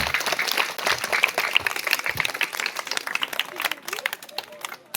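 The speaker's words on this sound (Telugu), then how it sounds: "మీ చప్పట్లతో వినపడలేదురా ఇంకా జరపాలా" Applause from an audience at a Telugu public talk, dense and sustained for several seconds with steady clapping, thinning slightly toward the end.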